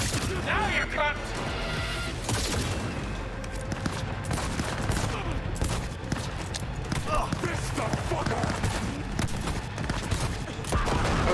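Dense, loud gunfire in Cyberpunk 2077 fills the whole stretch, a near-continuous burst of shots and crashes with a voice speaking over the top.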